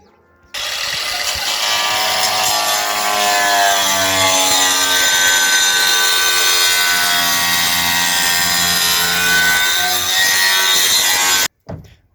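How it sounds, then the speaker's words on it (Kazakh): An angle grinder cuts through roof slate sheets in one continuous, loud, close pass with a high whining scream. It starts abruptly and stops sharply just before the end. "Болгаркамен кесеміз"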